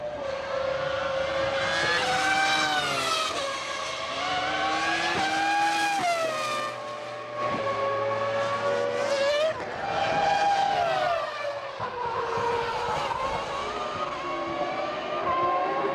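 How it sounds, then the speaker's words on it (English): Formula One race cars at the 2000 San Marino Grand Prix scream past in waves of high, revving engine notes that rise and fall with gear changes, loud and continuous for the whole stretch. "Michael Schumacher comes plummeting round the corner"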